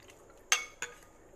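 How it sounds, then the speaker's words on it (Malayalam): A spoon clinks twice against a glass while a salted juice drink is mixed, two sharp close metallic taps in an otherwise quiet moment. "അപ്പോൾ മിക്സ് ചെയ്യുവാണ്."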